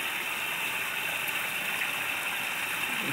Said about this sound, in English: semi-done disappearing waterfall.